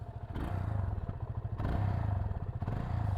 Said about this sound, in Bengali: আপনাদেরকে একটা জিনিস শোনানোর জন্য, সেটা হচ্ছে বাইকটার এক্সজস্টের নোট